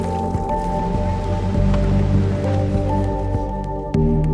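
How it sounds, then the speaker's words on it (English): Ice floes knocking and sloshing in rippling Antarctic ocean water: a steady wet churn with scattered drips, splashes and soft thuds, close and continuous, under a constant low hum, with no talk. "There is a never-ending ripple moving through the ice floes, bouncing the bigger chunks in and out of the water."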